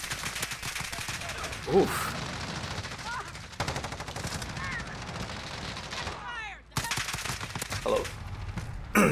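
An FAL rifle fires in Call of Duty: Modern Warfare gameplay, with repeated loud bursts of rapid shots in quick rhythm and short pauses between volleys. A player briefly exclaims between bursts.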